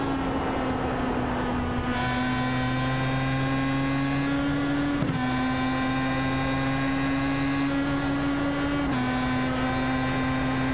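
Pro Mazda open-wheel race car at Canadian Tire circuit, a steady high-pitched engine whine holding near-constant revs, with brief dips at gear changes or braking before climbing again, loud and continuous throughout with no talk.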